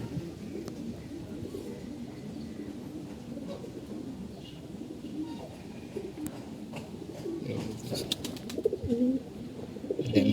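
Pigeons coo softly and repeatedly in a domestic loft kept for moulting care, the low murmuring calls continuous and close, with a few brief sharper sounds toward the end.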